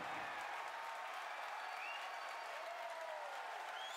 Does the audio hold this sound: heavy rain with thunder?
no